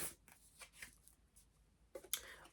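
Soft papery riffling of oracle cards being shuffled, a few light flicks and rustles at close range, ending in a couple of sharper snaps.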